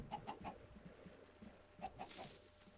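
Chickens in a video game cluck in soft, quick bursts of three, first near the start and again near the end, faint and distant over quiet background noise.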